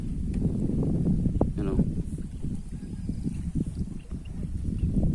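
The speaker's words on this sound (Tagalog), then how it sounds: "Baka kuha nga rin yung dito yung sounds ng hangin" Steady broadband wind rumble buffets the microphone throughout, low and continuous, with faint gusty fluctuations and no voices.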